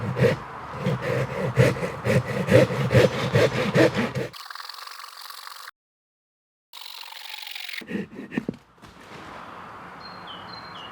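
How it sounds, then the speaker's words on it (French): A Silky folding saw rasps through a wood stump in fast, rhythmic back-and-forth strokes for several seconds, then stops; quieter outdoor ambience and brief handling noises follow. "Je vais donc scier cette souche pour bâtonner une bonne grosse section."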